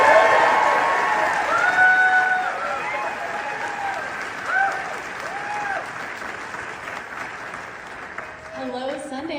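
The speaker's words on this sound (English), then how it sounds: "Please give her a big round of applause." A Sundance crowd claps loudly, with whoops and whistled cheers rising over the applause as it slowly tapers, and a voice starts talking near the end.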